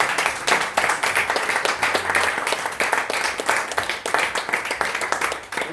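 An audience applauds at an event in Rouen, with dense, steady clapping from many hands, close and loud, continuing throughout and fading slightly at the end.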